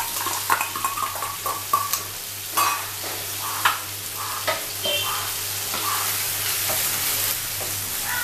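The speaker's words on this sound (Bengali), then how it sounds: "গোটা জিরে জাস্ট 1 টিস্পুন, তারপরে দিয়ে দেবো পেঁয়াজ কুচি, যেটা আমি কুচিয়ে রেখেছিলাম।" Chopped onions and whole cumin seeds fry in a pan for egg devil, a close, steady sizzle broken by repeated scraping stir strokes and light clinks of the spoon against the pan.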